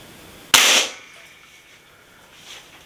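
An Umarex Forge pellet air rifle fires one shot at an indoor range, a single sharp loud crack that rings off briefly before the room falls quiet again.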